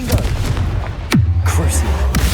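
A Confringo blasting spell in the Hogwarts Legacy video game lands with a loud booming explosion, followed by a sustained low rumbling roar, while a voice speaks around it.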